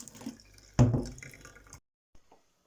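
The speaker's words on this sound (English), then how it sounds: "It's easier for the liquid to go through when the material's wet, so I'm just pouring over boiling water." Boiling water poured over a wet straining cloth while making rosehip syrup: a brief splashing pour that trickles and drips off, followed by near silence and a faint clink.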